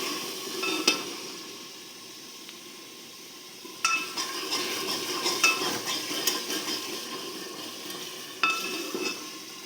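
Masala roasts in a pan for a potato and cabbage sabzi, giving a low sizzle. A spoon scrapes and clinks against the metal several times, with no talking.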